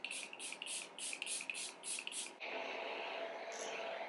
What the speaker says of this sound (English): Let me just spray it a little bit.